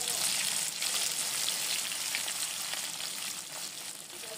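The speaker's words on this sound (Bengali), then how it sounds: "অল্প আঁচে সব মাছগুলোকে লাল লাল করে ভেজে নেব।" Pieces of fish fry in oil over low heat for a cauliflower fish curry, giving a steady, close hiss of sizzling that eases slightly toward the end, with no talk.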